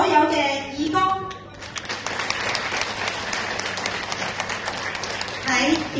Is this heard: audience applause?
yes